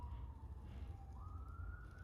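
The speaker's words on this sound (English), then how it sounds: "Police car going past as well." A police car siren wails past at a distance, its pitch sliding down and then jumping up, over a steady low rumble of outdoor background noise.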